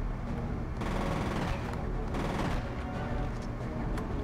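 Gunfire in the shooter game F.E.A.R., a dense continuous wash of overlapping shots and rumble with a few surging bursts, steady and fairly loud throughout.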